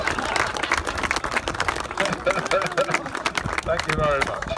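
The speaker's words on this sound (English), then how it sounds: "Give a round of applause, everybody." An audience applauds after a volunteer's turn at a live show, a dense wash of clapping running the whole time with voices and cheers mixed in.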